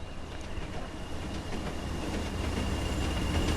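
A train rolls along railway tracks, a steady broadband rumble with faint wheel clatter that holds loud and close throughout, no voices.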